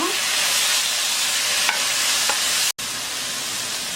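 Eomuk fish cakes stir-fried in a pan after mirin and soy sauce go in, a steady close sizzle with a few light utensil scrapes and a brief cut-out near the end.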